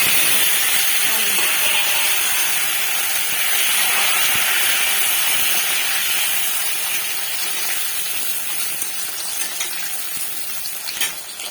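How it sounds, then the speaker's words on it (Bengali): Potatoes frying in hot oil, started before cooking Tangra fish: a continuous dense sizzling hiss, close and fairly loud, holding steady with little change throughout. "আমি এই আলুটা ভেজে নেব আগে"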